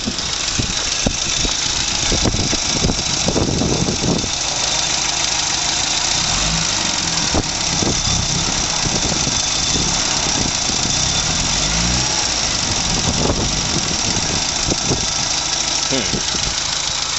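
A 1980 Mini 1000 automatic runs continuously at close range, its small engine idling roughly with knocking pulses and uneven surges, and a voice talks briefly over it.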